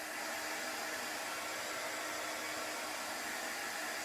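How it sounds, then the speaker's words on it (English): A hair dryer blows steadily and close up, drying chalk paste spread over damp wood, with an unbroken broadband whoosh and no voices. "I'm drying it quickly, so hopefully it won't bleed into the moist wood underneath."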